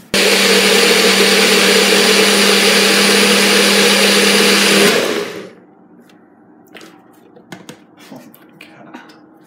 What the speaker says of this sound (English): So let's go blend these 5 ingredients